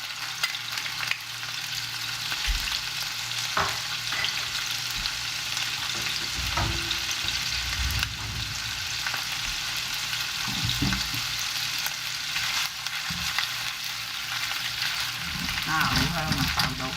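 Minced ginger and garlic sizzle steadily in a hot wok, a continuous close frying hiss with occasional stirring scrapes and clinks, no voices.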